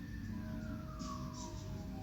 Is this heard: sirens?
yes